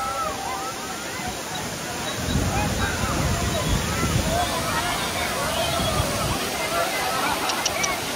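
Kempty Falls waterfall near Mussoorie, a continuous rushing roar of falling water heard from nearby, with a crowd murmuring and people chatting over it, the water growing slightly louder midway.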